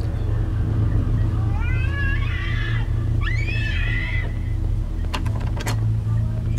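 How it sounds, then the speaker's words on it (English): A crying baby in the horror video game Cry of Fear gives two rising, wailing cries over a steady droning game ambience, followed by a few sharp knocks near the end. "I hear a baby."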